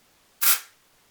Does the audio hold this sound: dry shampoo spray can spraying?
yes